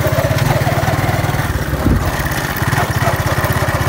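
Motorcycle engine idling or running at low speed with a steady, rapid low-pitched putter, close and loud throughout. The bike has a punctured rear tire, and brief faint voices pass in the background.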